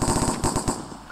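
Rapid bursts of M4 rifle fire in a Minecraft counter-strike style cops and robbers game, a quick stuttering volley of loud, close shots that then tails off.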